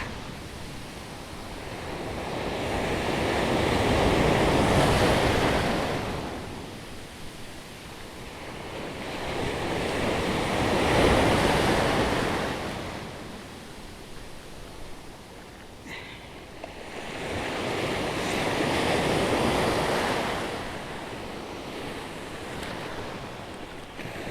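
Ocean waves off Occidental Mindoro, Philippines, roll in and wash out in slow swells, three big surges about six seconds apart, with wind rushing over the microphone.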